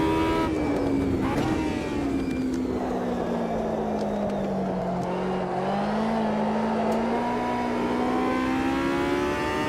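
A small race car in Automobilista 2 on a small circuit, its engine droning loud and continuous, pitch sliding down through a corner then climbing again, with brief gear-change blips early on.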